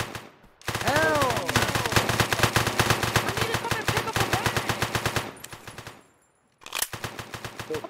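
Sustained automatic gunfire in Payday 3, a long rapid stream of loud close shots lasting several seconds, then a short pause and a second burst, with shouting voices over the shooting.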